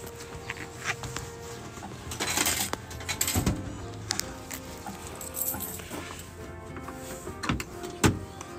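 A retro vending machine at a foot-bath café in Fuefuki, Yamanashi dispenses a purchased caramel pudding in a paper bag, giving a mechanical whir followed by several clunks and rattles as the item drops into the tray, close and fairly loud.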